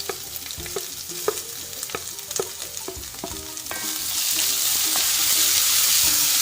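Chopped ginger and onion frying in a pan with a spoon stirring through them, sharp scrapes and clicks over a sizzle that grows louder and denser halfway through.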